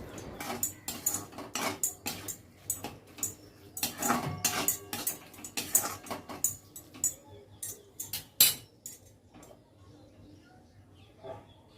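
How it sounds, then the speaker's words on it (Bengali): Soy sauce being stirred into pasta in a pan, heard as a busy run of sharp clinks, taps and scrapes of utensil on cookware, close and irregular throughout, with faint background hum. "আর দিয়ে দেব 1 টেবিল চামচ মতো সোয়া সস। আবারও সব কিছু ভালো করে মিশিয়ে নিচ্ছি।"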